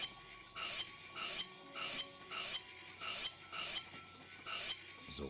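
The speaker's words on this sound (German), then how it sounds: "noch mal kurz am Schleifstein gucken. Kann ich noch mal irgendwas schleifen?" A blade is sharpened on a grindstone in the video game Gothic 3, heard as eight even, rasping strokes in a steady rhythm, close and alone with no talk.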